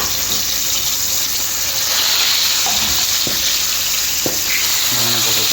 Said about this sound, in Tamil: இப்போ இதையும் வறுத்து எடுத்துக்குவோம்.